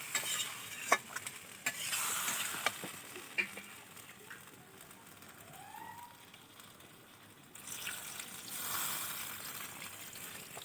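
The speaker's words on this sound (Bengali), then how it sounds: "কতটা সুন্দরভাবে কষিয়ে নিচ্ছি" Potatoes and spices sautéed in a pan for a pangas and tengra fish curry with drumsticks: soft sizzling with intermittent scraping and stirring clacks of a spatula, fairly quiet and close, without talk.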